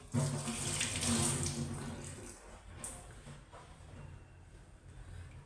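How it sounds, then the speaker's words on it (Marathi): Water splashes and streams into a pot of sweet-sour tamarind fasting amti for about two seconds, then stops, leaving quieter kitchen noise behind. "थोडं आपण ह्याच्यात पाणी पण घालू"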